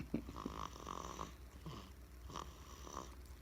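A baby girl snores softly and close by, a few raspy breaths with a quiet rhythm, low in level and with no talk.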